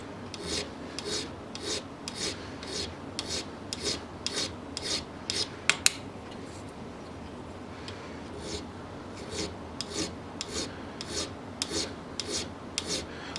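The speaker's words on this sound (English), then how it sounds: "let's just put a file to it and see" A metal file is worked by hand across a part of an Anschutz 64 rifle in quick, steady rasping strokes, close up and fairly quiet, with one sharp metallic click partway through.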